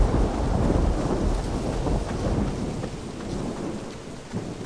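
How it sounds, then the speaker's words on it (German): Thunderstorm ambience from the video game Pineview Drive: steady heavy rain with continuous low rumbling thunder, loud and close, fading slightly toward the end, with no voices. "Wenn das weiter so donnert."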